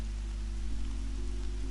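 Steady rain falls in the video game Horizon Zero Dawn, a soft, even patter on surfaces over a low constant hum, with no voices.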